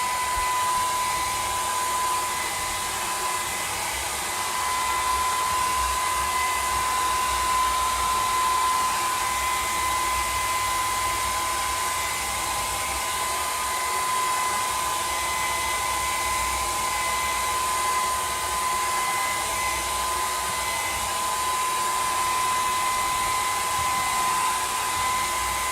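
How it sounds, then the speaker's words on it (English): A hair dryer blows steadily to dry a wet surface, a close, continuous whirring hum that runs unbroken for about 26 seconds with no voices. "I'll use my dryer and I'll make it dry."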